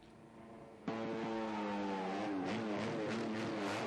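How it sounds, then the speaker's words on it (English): Moto3 racing motorcycles do burnouts at the Valencia circuit as they enter parc fermé, producing a sudden loud engine howl that rises sharply in pitch and holds steady and close over a background of crowd and track noise. "here's David Salvador and Daniel Holgardo doing some nice burnouts on the entry to Parc Fermé."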